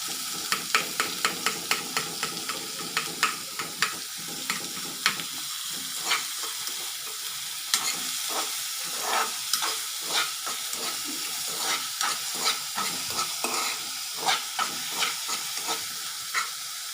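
Onions sauté in a hot pan with a loud, continuous hissing sizzle, punctuated by rhythmic scraping strokes of a spatula stirring them close by.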